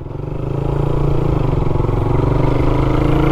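Suzuki Raider 150 motorcycle engine revving up from idle and holding a fast, throbbing, close-up putter, loud and steady throughout.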